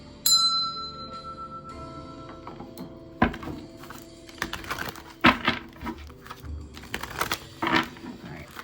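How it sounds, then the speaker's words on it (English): A small hand bell rings once with a bright, lingering tone that decays slowly, followed by scattered clicks, taps and knocks as objects are handled nearby. "I'm going to ring this bell to call in my ancestors for protection and guidance"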